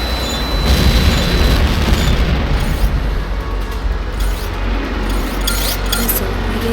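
Missile fired from a jet fighter in Tom Clancy's HAWX: a steady, loud rushing roar of engine and rocket thrust that holds for several seconds, with a few faint high clinks near the end.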